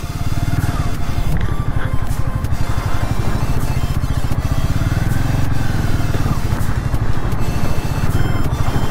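A motorcycle rides a broken, unpaved road in Ladakh, its engine chugging loudly and steadily up close with rattling clatter from the rough surface throughout.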